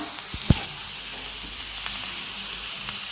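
Carrot fry sizzles in a pan with a steady soft hiss of frying, nearby and moderately quiet, with an occasional knock of a spoon stirring against the pan.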